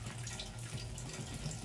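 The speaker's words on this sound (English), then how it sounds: "So I'm going to add my little cold water" Cold water being poured into a cooking mixture during holiday food preparation, a soft continuous running and splashing, quiet and close, with no talk.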